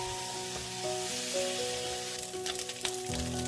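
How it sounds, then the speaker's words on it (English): Bacon frying in a little oil in a pan makes a steady, close sizzle with soft crackle, heard under a sustained musical tone with no talking. "Fry the bacon until it gets brown."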